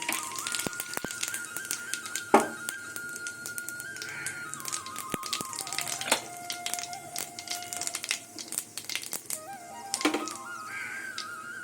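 Dried red chillies and whole cumin crackle in hot oil with sharp, scattered pops and spits, faint and close, over quiet tonal background sounds.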